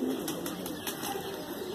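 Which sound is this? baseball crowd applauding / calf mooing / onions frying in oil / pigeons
pigeons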